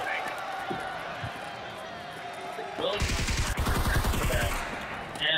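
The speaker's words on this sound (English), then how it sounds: "Wait, who's shooting me?" Gunfire in Escape From Tarkov Arena: a rapid burst of automatic fire cuts in midway over game ambience and running footsteps, loud and close, then stops.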